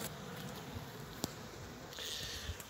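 Honey bees buzz around their hive in spring after overwintering, a faint, continuous hum with individual bees droning closer now and then and no voices.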